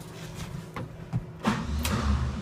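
Starter cranking the engine of a 1961 Chevrolet Apache truck, a few uneven turning bursts that swell into a steadier, louder low rumble toward the end, heard close up.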